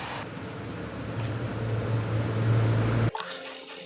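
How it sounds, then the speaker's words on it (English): A 3D printed steam turbine with a 2-to-1 gearbox spins up in a steady whirring hiss with a low hum that builds, then cuts off abruptly, leaving a brief clatter. "So this is the turbine with an additional gearbox"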